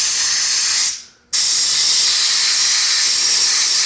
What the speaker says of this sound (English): I usually apply the air pressure through it, just rotate that nozzle until you get airstream